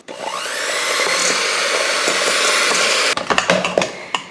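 An electric mixer beats butter for a matcha cake in a long, steady loud whir that stops abruptly, followed by a few knocks and clatters.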